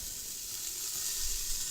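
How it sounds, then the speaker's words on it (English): Carrots and onions hitting hot oil in a pot for a three bean barley chili: a brief, steady hiss of sizzling at moderate level, close by, with no talking. "Next, we're going to add our carrots. Ooh, nice sizzle."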